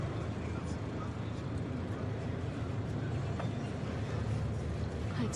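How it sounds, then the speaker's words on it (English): A bus in Kosovo pulling away and driving on, its engine a steady low rumble with road noise throughout, heard from inside the cabin. "This bus has just started, so I guess we're going."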